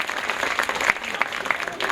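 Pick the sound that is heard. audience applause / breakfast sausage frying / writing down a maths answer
audience applause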